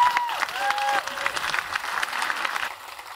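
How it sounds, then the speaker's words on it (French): Audience applause welcoming a speaker onto a stage, brisk clapping from a moderate crowd with a few faint tonal squeaks early on, fading slightly toward the end. "je vous demande de l'applaudir bien fort"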